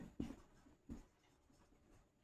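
Chalk or marker writing on a board, three short scratchy strokes in a loose rhythm, close and fairly quiet, with no talking.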